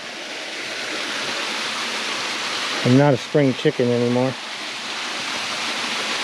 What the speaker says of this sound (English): that's a pretty good sized waterfall